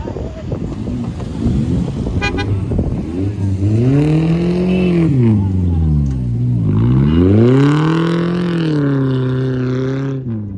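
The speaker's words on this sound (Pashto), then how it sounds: "دغه موټر بیخي خشک اواز" A car engine revs in open desert near Kandahar, Afghanistan, rising and falling in two long swells of a dry, strained roar, close and loud with wind buffeting the microphone throughout.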